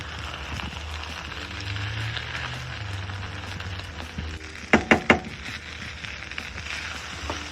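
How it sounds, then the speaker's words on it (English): Egg frying in a pan for shrimp fried rice, a steady soft sizzle running throughout, with three quick sharp clicks of a utensil against the pan near the end. "You let that egg cook up."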